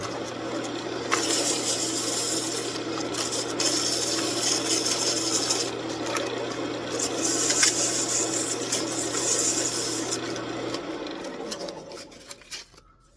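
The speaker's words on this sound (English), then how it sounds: "I want to clean that up with sandpaper real quick." Wood spinning on a lathe with a steady motor hum as 320-grit sandpaper rasps against the turning piece in continuous rubbing passes, the hum dying away near the end.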